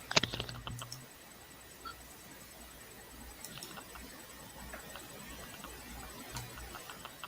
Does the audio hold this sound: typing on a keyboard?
yes